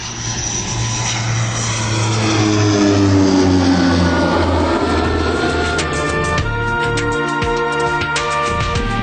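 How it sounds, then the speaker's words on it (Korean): A propeller airplane roars overhead as a radio drama sound effect, a loud, sustained engine drone that swells and then thins out as it passes, with no voices. "그때 창밖으로 비행기가 나는지 강한 비행기 소리가 들렸다."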